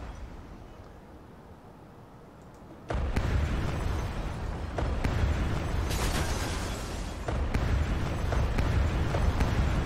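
Buildings being demolished in Transport Fever as a city district is cleared: after a quiet stretch, a sudden loud crumbling blast gives way to a sustained rumble with repeated popping crashes, without talking.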